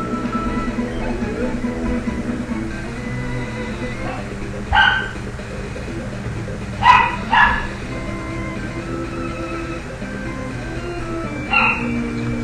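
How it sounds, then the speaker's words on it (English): Dogs bark angrily in a few separate sharp bursts over a steady game soundtrack in Pokemon LeafGreen, medium loud and spaced irregularly. "No, my dogs are just angry"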